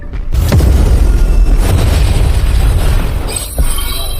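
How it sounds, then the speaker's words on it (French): An explosion in a fantasy battle erupts abruptly and loudly, then rolls on as a dense, roaring rumble for several seconds, with a second sharp burst near the end and no voices. "Explosion."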